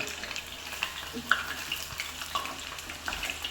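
Food frying in hot oil, a faint, steady sizzle with scattered small crackles and pops.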